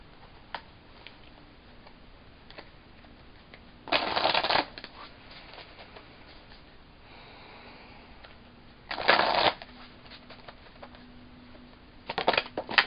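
Messenger Oracle card deck being shuffled in three brisk riffling bursts, near and fairly loud, with quiet pauses and faint ticks between them and no talk.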